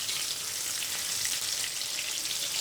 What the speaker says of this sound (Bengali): আমি দিয়েছি কটা, এখন আস্তে আস্তে ভাজবো